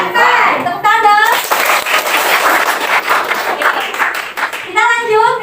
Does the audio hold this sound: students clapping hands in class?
yes